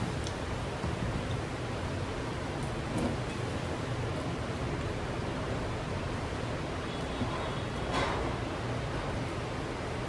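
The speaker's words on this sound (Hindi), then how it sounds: "बारिश बहुत तेज हो रही है, बहुत तेज।" Dense, steady hiss of heavy rain pouring continuously, loud and close, with no voices.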